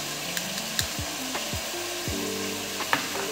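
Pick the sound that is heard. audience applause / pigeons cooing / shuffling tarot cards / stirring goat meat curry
stirring goat meat curry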